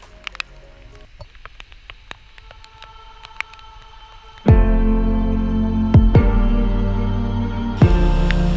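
Rain patters lightly on surfaces in Fiordland, sparse drops at first, then a much louder, steady wash of rain takes over with a few sharp bursts.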